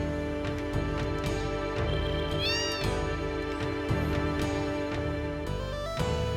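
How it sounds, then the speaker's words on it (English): Cat meows heard inside a house in the video game Final Fantasy VII, a few short high meows rising over continuous game music. "What are these meows?"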